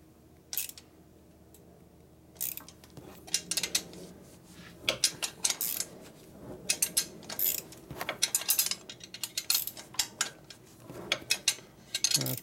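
Ratchet wrench tightening the exhaust header bolts on a Harley FXR during a Thunder Header install, heard as bursts of quick mechanical clicks, close and fairly faint, repeating in short runs throughout.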